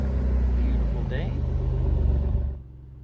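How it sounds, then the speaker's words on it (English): A 2024 Maserati GranTurismo Trofeo 75th Anniversary engine growls with a low, pulsing rumble while driving through town, then cuts off abruptly near the end. Speech is present alongside it. "the engine's growling"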